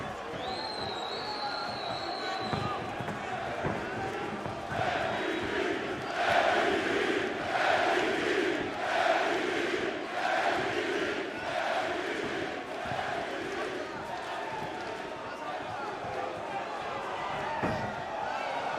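An arena crowd roars during a Bellator MMA fight, a big rumbling wall of cheering that swells and surges in waves, with a commentator talking over it.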